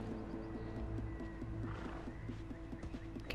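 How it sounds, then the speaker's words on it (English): A horse neighs and hooves clip-clop in a steady gallop rhythm in the video game Assassin's Creed Odyssey, heard over a low game soundscape with no voices. "Dude, get on a horse."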